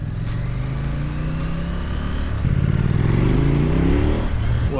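A 2024 KTM 990 Duke motorcycle pulls hard from close up, its engine note rising steadily through the gears with a brief shift before climbing again, loud and continuous over wind rush.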